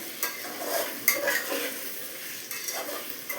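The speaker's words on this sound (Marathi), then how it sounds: "आता मसाल्यामध्ये चिकननी उडी मारली. आता असं गरगट फिरून घेते मी जरा." Chicken being stirred into masala in a pan for spicy chicken biryani, with a spoon scraping and clinking against the metal over a steady close sizzle.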